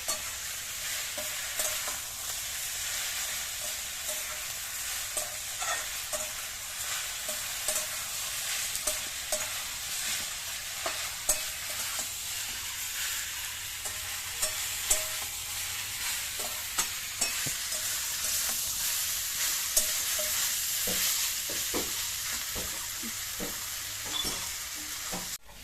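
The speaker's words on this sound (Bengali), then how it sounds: "ভালো করে নেড়ে চেড়ে ভেজে নেব।" Greens are frying in a pan after onions that are already browned. A steady sizzle runs underneath, and repeated scrapes and clacks from a spatula come as the greens are turned over and over.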